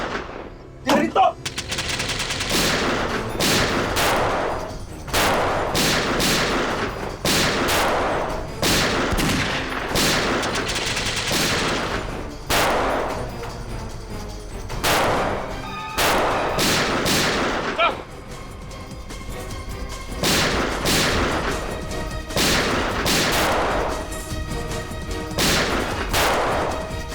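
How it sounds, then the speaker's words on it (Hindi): Repeated bursts of gunfire crack out in irregular volleys, loud and sharp, with rapid automatic strings and echoing tails amid a busy background. "गोली चला।"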